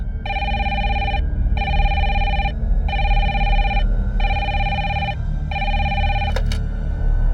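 A telephone rings in repeated double bursts, five rings in a regular rhythm over a low background hum, close and clear.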